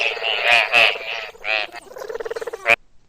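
A frog croaks loudly and close by in several rough, buzzy calls that break into a quick rattling trill before stopping abruptly.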